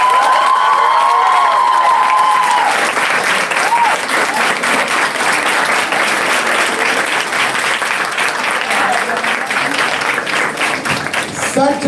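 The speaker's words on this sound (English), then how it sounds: "And with that, a big round of applause." Audience at a quiz event breaks into loud, sustained applause with cheering and shouts, a dense wall of clapping that holds for the whole stretch, with a voice briefly heard at the start.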